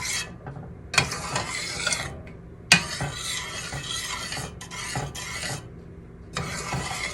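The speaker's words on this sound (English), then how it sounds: "And we stir this in." A spoon stirs vanilla into thick chocolate ganache in a bowl, producing close scraping and clinking strokes in bursts separated by short pauses, with no talking.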